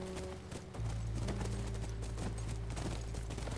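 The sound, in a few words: horse hooves clip-clopping in video game The Last of Us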